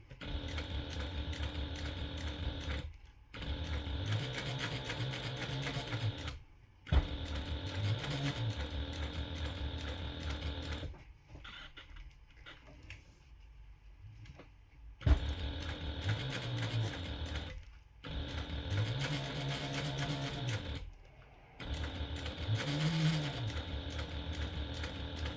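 Sewing machine stitching a notepad holder seam with a 1/8 inch seam allowance, running in several long steady bursts of rapid mechanical whirring separated by brief pauses and quieter handling sounds, no talking.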